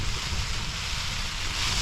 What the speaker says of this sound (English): quite breezy out there